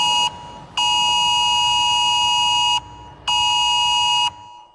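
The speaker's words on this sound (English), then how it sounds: "that's the sound of the government's new nationwide public alert system" UK government emergency alert tone sounding from phones: loud, steady electronic tones in three bursts, a short blip, then two long blasts with brief gaps between them.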